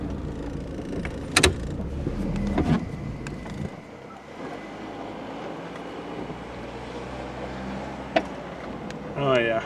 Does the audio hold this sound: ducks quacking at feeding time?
no